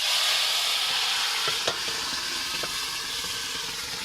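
Red lentils tipped into a hot pot on a clay stove for a bottle gourd curry, setting off a steady, close, loud sizzle with a few soft knocks and clinks partway through; no voices.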